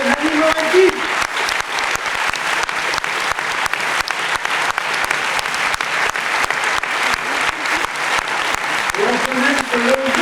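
An audience applauds Nanni Moretti with sustained, dense clapping that stays loud and even throughout, while a voice speaks briefly over it.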